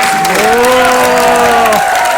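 A large crowd at a motivational speech event bursts into loud, close applause and cheering, with a rising whoop carried over the clapping for most of the moment.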